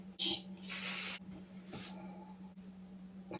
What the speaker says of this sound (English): I'm going to take some hairspray and just spray the curls.